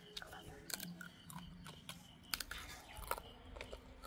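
Crunchy kuzhalappam, a ring-shaped fried snack, is bitten and chewed close to the mic in a quiet series of crisp crunches, with soft speech mixed in.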